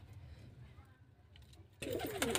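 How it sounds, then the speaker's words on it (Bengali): A male Giribaz high-flying pigeon in a loft gives soft, low, rolling coos up close, followed by a sudden louder burst of bustle near the end. "দেখে নাও এটা নর পায়রা"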